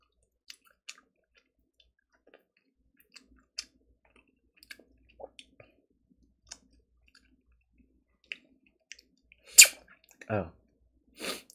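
Sparse, sharp keyboard clicks tap irregularly in near silence, followed by a few louder thumps and rustles at the end.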